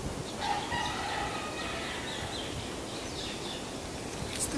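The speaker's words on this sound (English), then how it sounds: "The jungle rooster." A jungle rooster crowing outdoors in Maui, Hawaii, its thin call faint and distant over a steady wash of background noise.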